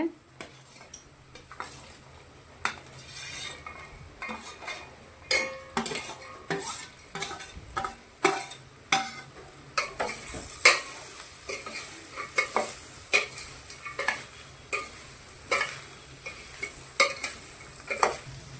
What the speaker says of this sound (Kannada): ವೆಜಿಟೇಬಲ್ಸ್ ಎಲ್ಲ ಫ್ರೈ ಆಗಾಕತ್ತಾವ್ರಿ ಈಗ